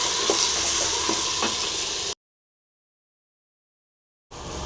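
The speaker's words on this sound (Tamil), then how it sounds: "தக்காளி போட்டு நல்லா ஃப்ரை பண்ணலாம்" Tomatoes fry in a pan for sambar, a steady close sizzle with a few soft stirring taps. The sound cuts out to silence for about two seconds, then the sizzle resumes.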